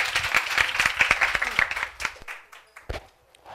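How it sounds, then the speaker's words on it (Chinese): Applause from a conference audience welcoming a speaker at a civic tech summit: distinct claps close and dense at first, thinning into scattered individual claps before fading out. "那我们用热烈的鼓掌欢迎科比"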